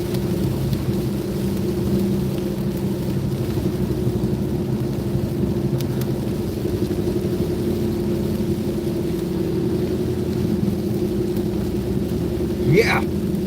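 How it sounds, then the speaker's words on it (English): A high-precipitation supercell thunderstorm over Oklahoma City sends a steady roar of heavy rain, with low rumbling underneath and a brief sharp sweep near the end, heard from inside a vehicle. "I did not expect to just hit a high precipitation supercell coming back to the motel for the night."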